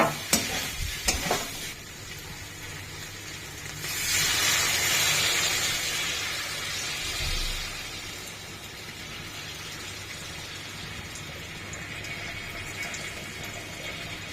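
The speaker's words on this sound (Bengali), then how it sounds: "এবারে আমি পরিমাণ মতো জল দিয়ে দেবো গরম" Hot water poured into a pot of cooking goat meat curry, bursting into a loud hiss and steamy sizzle after a few clinks, then settling into a steady bubbling simmer.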